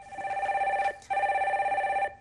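A telephone rings as a caller is connected to a stock-market call-in broadcast, two loud electronic trilling bursts separated by a short gap, clear and alone.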